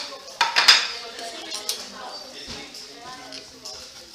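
Plates are lifted out and set down in a kitchen, with crockery clattering and cutlery clinking in a quick burst at first, then lighter knocks, under a talking voice.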